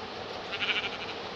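Goats bleating in a pen, a short cluster of moderately loud bleats rising over steady background noise, with no voices.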